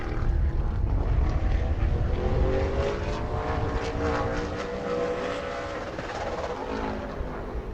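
A super late model race car at speed on a qualifying lap at New Smyrna, its engine a loud, steady, close roar with harmonic whine that gradually eases slightly as it passes off the turn.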